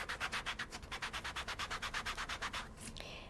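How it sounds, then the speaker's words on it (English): A sponge dauber rubbing ink across paper in quick, even back-and-forth strokes, about a dozen soft brushy swishes close up, then slowing to a final light scrape. "take one of these sponge daubers and some of the desert sand ink. And what I'm going to do here is I'm going to go over all of the leaves"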